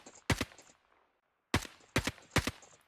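AK rifle fire in Call of Duty Mobile, four sharp, loud single shots, one early and three in quick succession after a silent gap, with brief decaying tails.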